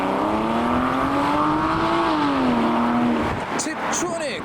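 A Porsche 996 with a Tiptronic gearbox pulls away from a car meet, its flat-six engine rising in a loud, smooth rev before easing off as it moves away, with brief sharp sounds at the end.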